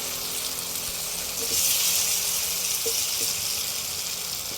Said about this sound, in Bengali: তো এই পর্যায়ে দিয়ে দিচ্ছি আমি ভেজে রাখা আলু,